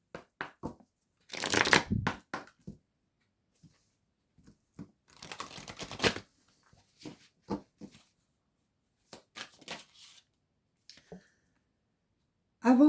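Unicorn oracle cards being shuffled by hand, a few bursts of riffling and soft slapping separated by pauses, close and fairly quiet with small clicks between.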